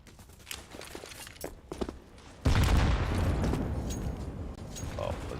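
Grenade explosions in a Counter-Strike match: light in-game shuffling and clicks, then a sudden loud blast that erupts into a sustained rumbling roar of several detonations, under a commentator's voice.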